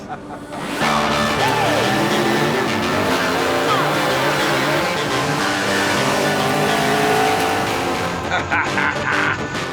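A TA Cup class race car at speed on a racing circuit, its engine roaring loud and sustained from the cockpit in fourth gear, with pitch shifts and faint tire noise throughout.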